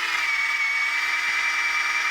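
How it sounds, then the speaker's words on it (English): Power drill revving steadily at high speed into green wood, a continuous loud whine with no pauses, close and alone. "And we're always gonna rev up first and not have our bit on the wood as we rev up."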